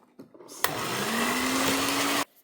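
An electric mixer whirs steadily as it beats a batter of eggs, sugar, milk and oil, starting abruptly after a few soft clicks, holding a loud, even drone with a slowly rising pitch, then cutting off sharply.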